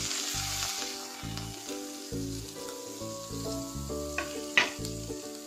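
Potatoes and mixed vegetables fry in a pan, giving a continuous soft sizzle with occasional stirring scrapes and clinks, heard close and alone without talk.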